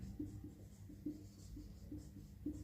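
Chalk or marker writing on a classroom board during a biology lecture, a faint rhythm of short scratchy taps and strokes over a low background hum, with no talk.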